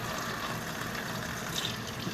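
Water pours steadily into a crockpot as Great Northern beans are being cooked, a continuous close splashing rush with no break, and no voices over it.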